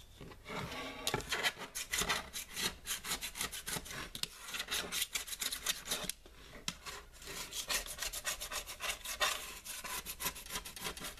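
A small blade scrapes dried paint off a palette made of tempered microwave glass, giving harsh raspy scraping strokes in quick irregular bursts, close and continuous.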